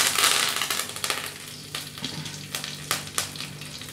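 Curry leaves hitting hot oil with mustard seeds in a home kitchen, a steady bright sizzle that flares loud at first, then crackles and pops in scattered sharp bursts as it settles.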